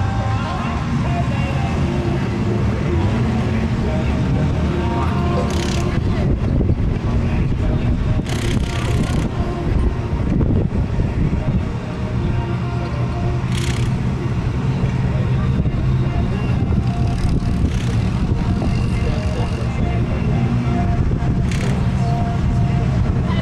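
Four-cylinder open speedway race cars racing at Gilgandra Speedway, a loud continuous roar of engines on a dirt track that rises and falls as cars pass, with a commentator speaking over it.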